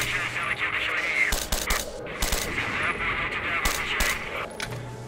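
Suppressed VSS rifle fire in the game STALKER: Shadow of Chernobyl, several muffled shots in quick bursts with mechanical clacks, over game ambience.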